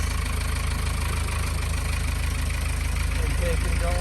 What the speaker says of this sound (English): Then he started the engine, allowing the impeller to pull the antifreeze into the raw water cooling system.